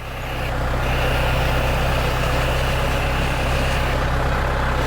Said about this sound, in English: Kelly got tired driving the tractor, won't get out on the seat